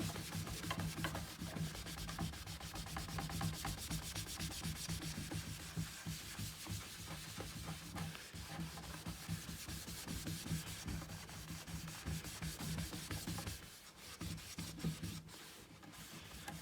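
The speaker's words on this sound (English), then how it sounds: "And then you can polish off the wax." A rag polishes wax off a freshly renovated wooden top, giving a steady, close rubbing and swishing sound in quick back-and-forth strokes throughout, quiet and without talk.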